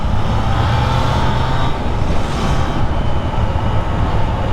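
A Triumph Trident 660 motorcycle engine hums steadily while riding in third gear, a loud continuous drone mixed with heavy wind rush and road noise, with no talking.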